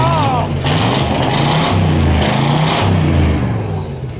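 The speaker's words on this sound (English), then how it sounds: "Listen to this car." A 1963 Split Window Corvette, restored after being abandoned, runs and revs loudly up close, its engine note rising and falling in a steady throaty rumble.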